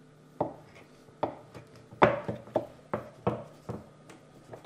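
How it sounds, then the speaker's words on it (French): A knife chops a log of fresh homemade pasta dough into pieces on a board, giving about ten dull, close thuds in a steady, slightly uneven rhythm, with no talking over them. "On va couper des tronçons."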